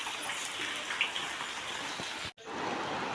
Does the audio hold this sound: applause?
no